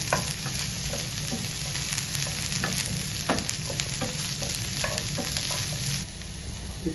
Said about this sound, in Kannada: ಈಗ ಮಸಾಲೆ ಎಲ್ಲ ಮಸಾಲೆ ಹಾಕ್ತಾ ಇದ್ದೇನೆ ಗ್ಯಾಸ್ ಲೋ ಇಟ್ಟು ಸ್ವಲ್ಪ ನಾವು ಫ್ರೈ ಮಾಡಬೇಕು